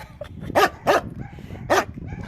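A German shepherd-type dog waiting to be fed gives three loud, close barks at uneven intervals, with softer whines between them.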